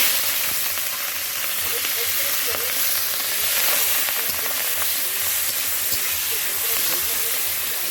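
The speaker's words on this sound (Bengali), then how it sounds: "এবার দেবো চিংড়ি মাছ।" Prawns sizzle and hiss steadily in hot oil in a pan, a loud, close, continuous frying sound with faint scraping from stirring and no breaks.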